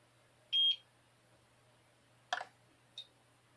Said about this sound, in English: After you hold it in, it beeps once.